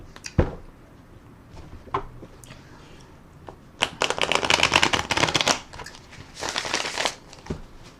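A deck of tarot cards being riffle shuffled by hand, with scattered taps and clicks, then two bursts of rapid fluttering card riffles, close and crisp.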